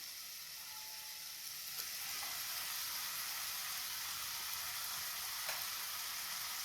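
Chopped tomatoes fry in hot oil in a pan, giving a steady soft sizzle with faint hiss and occasional light stirring clicks.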